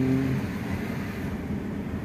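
A Proton Exora car engine idles steadily nearby after an alternator pulley replacement, a low continuous rumble with no talking.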